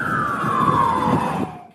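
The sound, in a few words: police car siren passing, changing pitch (Doppler effect)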